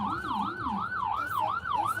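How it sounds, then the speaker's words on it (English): An ambulance siren wails close by on the road, its rapid rising and falling yelp cycling loudly over a short stretch with traffic noise beneath. "I got to pull over because the ambulance is coming"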